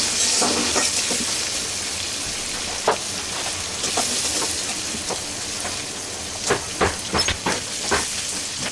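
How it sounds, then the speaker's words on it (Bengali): Onion and potato pieces fry in a pan, a loud steady sizzle with occasional sharper crackles and stirring clicks, no voices. "এটাকে একটু ভাজব"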